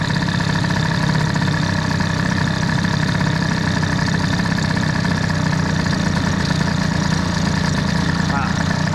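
Peugeot 103 Doppler moped two-stroke engine idles close by with a raised, hanging idle, a steady loud buzzing drone that runs throughout.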